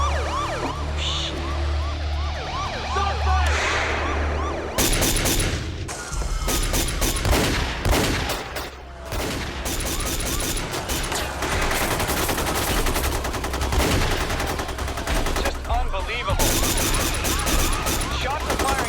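Police gunfire at a shooting scene, dense bursts of rapid shots under wailing sirens, loud and chaotic with short lulls between volleys.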